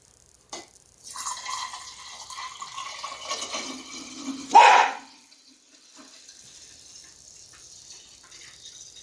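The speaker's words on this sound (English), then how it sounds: "fill it up with the kefir water" Water kefir pours into a jar for a few seconds, a hollow trickling that rises then stops abruptly, followed by quiet handling sounds.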